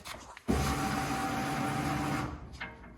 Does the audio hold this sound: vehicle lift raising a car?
yes